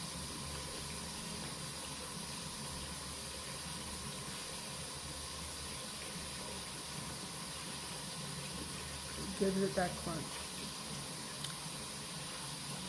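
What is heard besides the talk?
running soap water in sink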